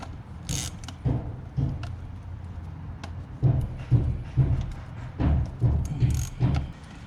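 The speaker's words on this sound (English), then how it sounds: "And then we'll undo this hose clamp right here." Hand work loosening an old, stiff hose clamp in the engine bay of a BMW Z3 with a 2.8L M50 engine: close, repeated low thuds and mechanical creaks in a steady rhythm of strained tugs.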